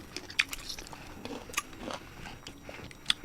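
Close-up crisp bites and wet chewing, with a few sharp crunchy snaps scattered across a few seconds of eating.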